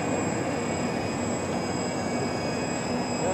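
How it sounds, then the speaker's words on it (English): A Canadair CL-84 Dynavert tilt-wing airplane hovers, producing a steady, loud engine and rotor drone with constant tonal whine, continuous and unbroken throughout. "Airplane hover."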